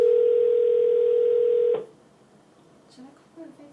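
A steady telephone tone plays while a call is placed, one loud, unbroken hum lasting nearly two seconds before cutting off abruptly into near silence with faint background sounds.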